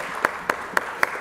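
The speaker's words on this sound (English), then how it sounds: "If you all could join me in a round of applause for Ms. Mallory." Sparse clapping at a Columbus City Council meeting, four crisp, evenly spaced claps standing out over a low room hum, with no talk.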